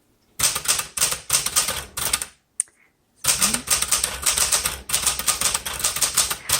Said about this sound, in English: Sorry, I can't type and talk.